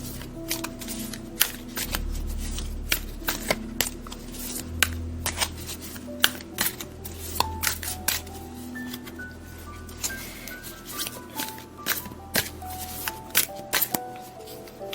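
Tarot cards being shuffled repeatedly close by, a steady run of riffles and soft flicks with a low hum underneath.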